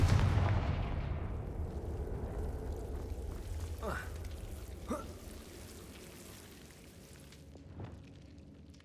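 A Confringo fire spell explodes in a video game, opening with a loud, deep boom that decays into a long fading rumble, followed by a few brief whooshing and gasping sounds.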